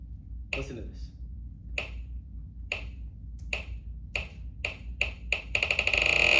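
Sharp clap-like hits begin spaced apart, then come faster and faster until they blur into a continuous buzzing tone, close and clear against a quiet background.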